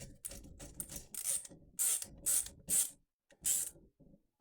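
Screwdriver tightening a terminal screw on an electrical wall receptacle during replacement: a series of short, close, crisp ratcheting clicks and scraping turns in uneven bursts, with brief pauses between strokes.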